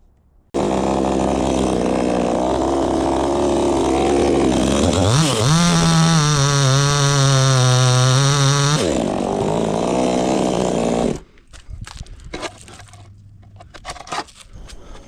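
An Ogawa chainsaw engine runs loud and close, droning steadily, rising to a higher, harder rev for a few seconds, settling back, then stopping abruptly, leaving faint clatter and rustling.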